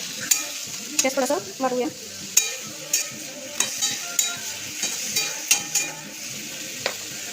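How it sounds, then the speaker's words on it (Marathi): Onion and tomato are stirred as they fry in a pan with salt, giving a soft sizzle under rhythmic spoon scrapes and clinks against the pan, with a brief spoken remark early on. "आता हलवून घेऊ आपण."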